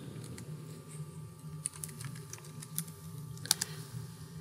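Keystrokes on a computer keyboard enter a Windows command, a quick run of light, uneven clicks over a low background hum, with a few sharper taps partway through.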